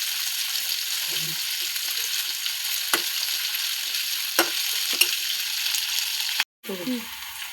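Onions fry with cumin and mustard seeds in hot oil, a steady crackling sizzle with sharp pops and stirring scrapes, then a sudden short dropout and a soft clatter.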